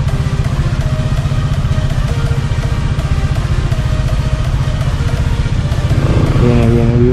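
A small motorcycle idles and rumbles close by in street traffic, steady and loud, with a rising engine note near the end as it pulls away.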